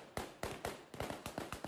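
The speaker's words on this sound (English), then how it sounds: "gunshots in the air." Armed men fire gunshots into the air in an Afghan street during a women's march, a rapid series of about seven sharp cracks at a faint, somewhat distant level, each with a short decaying tail.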